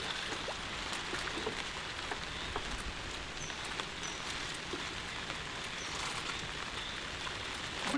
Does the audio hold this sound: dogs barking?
no